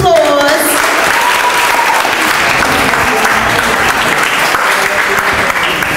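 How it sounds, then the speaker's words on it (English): Audience applause fills a youth-led tech program graduation ceremony in North Lawndale, a steady, dense clapping that holds loud and even throughout without pause. "Give him a big round of applause."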